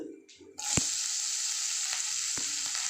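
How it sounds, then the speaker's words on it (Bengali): Chopped coconut is dropped into hot oil and ghee in a kadai and erupts into a loud, steady sizzle after a quieter start, with a couple of brief utensil knocks. "তেল আর ঘি এর মধ্যে আমি একটু কুচনো নারকোল দিয়ে দেবো"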